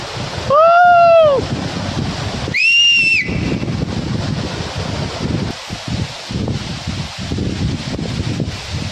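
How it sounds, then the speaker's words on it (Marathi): Steady broadband rush of water from Bhegu waterfall in Kalwan, near the Maharashtra–Gujarat border, running through the whole stretch, with two loud whistle-like tonal calls standing out near the start. "ज्यावेळेस आपण खाली धबधब्याजवळ पोहोचलो तेव्हा खरं हा धबधबा किती मोठा आहे"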